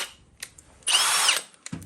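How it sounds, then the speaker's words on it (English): A power drill bores slowly through the steel top of a stainless impeller blade on a Honda HS snowblower, giving one steady whining burst of about half a second between quiet handling clicks. "we're drilling through steel. You don't need to go fast."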